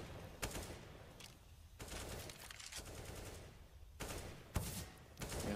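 Bursts of rapid Counter-Strike gunfire at a DreamHack Masters match between SK and North come in several sharp volleys, separated by short quieter gaps.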